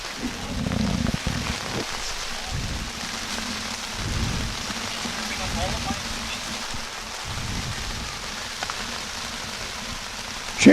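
Heavy pouring rain at an outdoor high school track and field stadium makes a steady, loud wash of hiss, with bursts of a voice talking over it.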